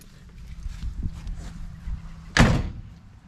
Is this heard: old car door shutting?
yes